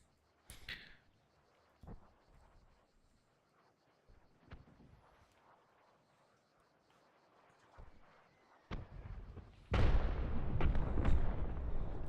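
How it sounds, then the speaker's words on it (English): Incoming artillery fire in the military game Arma 3: scattered distant booms and sharp impacts spread over several seconds, building to a loud, sustained rumbling barrage near the end. "Artillery coming in."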